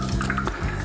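Water from an aquarium filter falls flat onto a sponge, a close, steady splashing trickle with soft drips.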